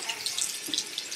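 Tap water runs steadily over a beauty blender sponge being rinsed in a sink, a close continuous splashing hiss with small watery fluctuations.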